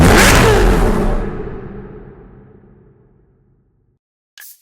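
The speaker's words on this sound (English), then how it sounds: "Each AMG 6-liter V12 bi-turbo engine" A Mercedes SL65 AMG Black Series with a 6-liter V12 bi-turbo engine in the Need for Speed Hot Pursuit game roars loudly in one burst, then the sound fades steadily into silence before a brief faint blip.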